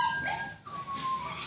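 A newborn puppy whimpers in thin, high wavering whines, close and fairly soft, with a brief pause in the middle and faint background noise.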